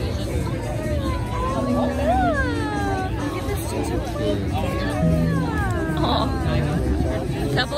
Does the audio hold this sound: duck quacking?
no